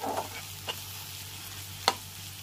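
Macaroni pasta being stirred with tomato ketchup in a pan over the heat: a few soft scraping strokes and one sharper clink near the end, faint against a low steady hum.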